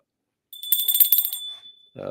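A bell rings in a quick burst of rapid strikes, bright and clear for about a second before it fades away, and a voice starts talking right after.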